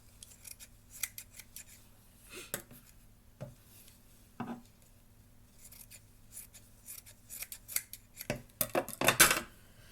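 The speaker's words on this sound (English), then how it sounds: "You want to go ahead and trim your sides." Scissors trim the fabric sides of a crochet bag lining, a series of crisp close snips in irregular bursts, growing quicker and louder toward the end, with no talk.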